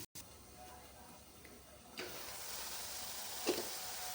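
Soft, steady hiss of steam and gentle sizzling from a covered pot of fenugreek leaves cooked with Bombay duck fish, with a brief clatter near the start and a couple of small clinks later.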